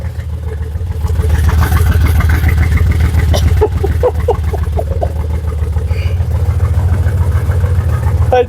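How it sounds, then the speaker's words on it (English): A Jaguar XKR X100 engine idles without its exhaust fitted, a loud, rough low rumble, steady throughout, with brief rises in revs and some faint talk over it. "Hey, the car's running."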